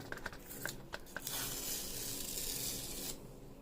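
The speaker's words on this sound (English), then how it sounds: "Go peel the plastic off the trackpad." Protective plastic film is peeled off a keyboard trackpad, a few quick crinkly ticks followed by a soft, continuous tearing hiss of film lifting away, close and quiet with no talking.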